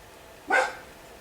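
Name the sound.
dog barking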